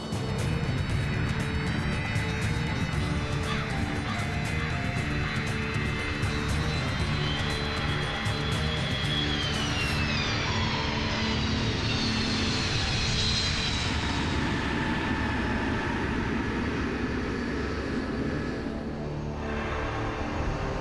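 A C-5 Galaxy transport, roughly 270,000 kilograms, touches down on an airstrip at Balad at midday. Its engines make a loud, continuous roar that holds for the whole stretch, with no voices over it.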